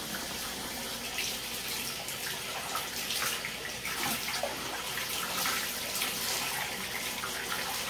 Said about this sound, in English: We're going to turn on our water.